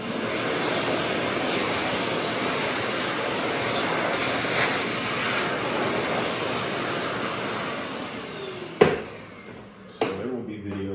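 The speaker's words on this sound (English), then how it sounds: "Step one is always to vacuum the surface you're working on" A vacuum cleaner runs steadily on a floor being prepped before shoe molding is taped, a loud continuous roaring whine that cuts out near the end, followed by a couple of sharp knocks.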